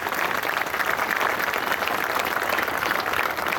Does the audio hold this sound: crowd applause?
yes